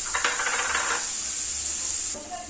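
Carrots frying in a pan, with a steady close sizzle and hiss, plus a burst of stirring and scraping early on that settles into continuous frying.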